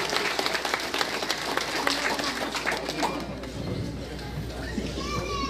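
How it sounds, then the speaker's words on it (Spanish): Applause at a mass wedding ceremony for the godparents, a busy round of clapping mixed with crowd and children's voices that thins out toward the end, with a voice rising over it. "los aplausos fuertes para los padrinos"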